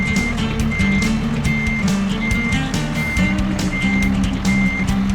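A semi truck with double trailers backs up in American Truck Simulator, its reversing alarm beeping steadily and loudly in an even rhythm over the low diesel engine idle.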